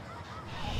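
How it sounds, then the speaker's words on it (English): Flightless domestic geese in Byrd Park let out a short, fairly loud burst of honking that grows slightly louder toward the end, with no voices over it. "Flocks of flightless geese populate Byrd Park every day."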